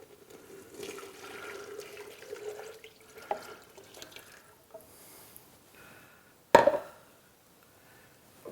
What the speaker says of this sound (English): Add your milk in.